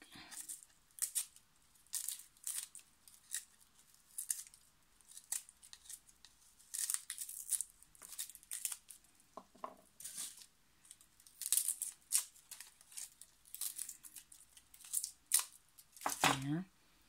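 Garlic cloves peeled by hand for a spicy shrimp dinner: crisp, papery crinkles and snips in short irregular bursts, close and fairly quiet, with occasional voices nearby.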